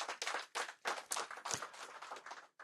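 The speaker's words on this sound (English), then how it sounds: "May we give him a round of applause." Applause comes from a conference audience at an economic outlook event, a few scattered bursts of clapping that come and go unevenly and stay fairly faint rather than building into a sustained ovation.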